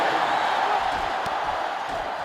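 A football stadium crowd roars as the defense faces fourth and two. The noise is a steady, dense wash of cheering with scattered whoops, slowly easing slightly across the moment.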